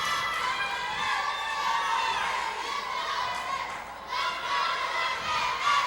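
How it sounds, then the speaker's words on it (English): Crowd noise and cheering from a junior girls volleyball championship in a recreation center gym, a steady dense roar of young voices shouting and calling out, close and loud throughout with a brief dip near the end. "Woodland's got their cheering section going."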